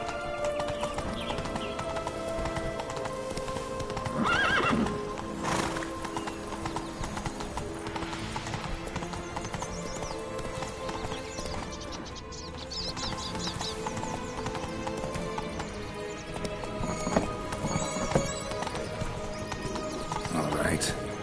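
Roach the horse gallops in The Witcher, rapid clip-clop hoofbeats running steadily throughout with a whinny mixed in, under game ambience and occasional spoken lines.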